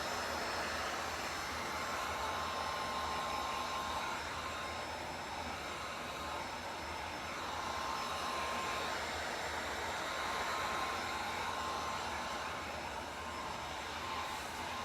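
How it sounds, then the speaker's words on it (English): A heat gun blows a steady, even hiss of hot air while stripping paint from an old mirror, running continuously and close by with no talk. "I love my little heat gun."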